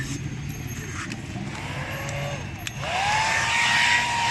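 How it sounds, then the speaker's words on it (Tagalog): A hot air blower hums and whines steadily at close range while heating a sticker to soften it for removal. It grows louder and brighter near the end. "Then habang ginaganyan mo, sabayan mo ng blower."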